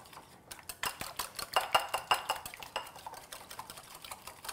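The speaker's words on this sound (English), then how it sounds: "I'm gonna mix this up with a whisk really well." Buttermilk and an egg whisked in a bowl, a quick rhythmic run of metallic clinks and taps as the whisk strikes the sides, close and fairly quiet, no talking.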